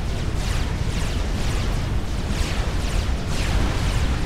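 A dense, roaring rumble from a destroyed unit's explosion in Supreme Commander: Forged Alliance, sustained and loud for several seconds with rolling crackle and no talking.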